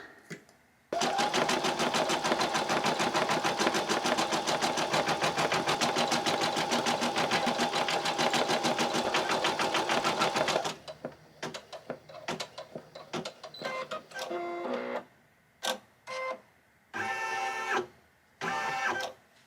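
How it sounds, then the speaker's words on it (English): An embroidery machine stitches red-brown thread on a bunny treat bag, a loud steady rapid needle clatter running for about ten seconds, then stopping and restarting in short bursts. "Next is this red. Here. It's like a red-brown."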